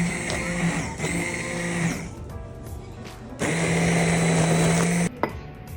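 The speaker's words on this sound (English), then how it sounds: "then we're gonna get our immersion blender and blend it all together" An immersion blender whirs through homemade jam in two loud bursts, each a steady motor drone lasting about two seconds, separated by a quieter pause with light clatter.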